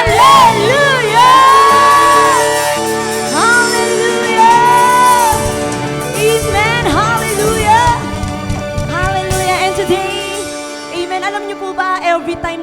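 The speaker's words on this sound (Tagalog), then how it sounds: "At sabay-sabay tayong sumigaw ng malakas na Hallelujah!" A church congregation shouts a loud Hallelujah together, many voices rising in a sustained, ringing roar with whoops and cheers layered over it for several seconds.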